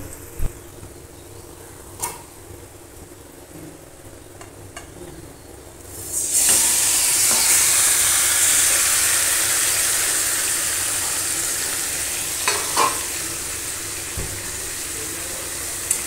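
Marinated chicken hits hot oil with fried onions in a curry pan, bursting into a loud, steady sizzle after a quieter stretch, with occasional clinks of stirring.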